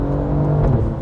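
Alfa Romeo Giulia Quadrifoglio engine blipping and revving during a downshift in race mode, a steady loud mechanical roar with a brief swell near the middle, heard from inside the car.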